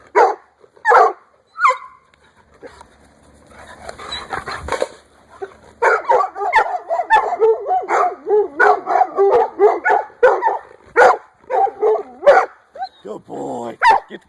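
Young coonhounds bark and bay at a raccoon during hunting training, loud repeated barks near the mic with growly, whining stretches in between.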